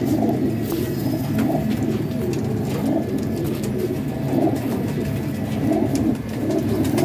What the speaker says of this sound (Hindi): ये दराज कुंदे का कबूतर है,